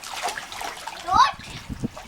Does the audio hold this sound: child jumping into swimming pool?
yes